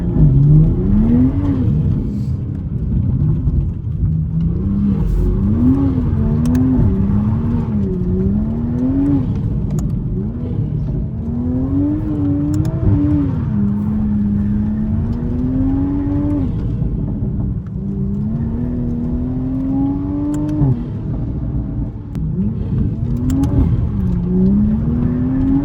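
A new Toyota Supra MK5 engine while driving, a loud steady cabin drone that climbs and drops in pitch through repeated revs and gear changes, continuous for the whole stretch with no talking.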